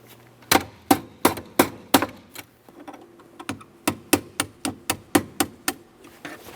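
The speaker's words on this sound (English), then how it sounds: "To remove the pin, I'm going to use a small hammer. I'm going to start tapping on the lower part" Small hammer tapping a mounting pin out of a 2001-2005 Ford Explorer Sport automatic transmission shift lever, sharp metallic taps in two steady runs of about six and ten strikes, close and clear with no talk.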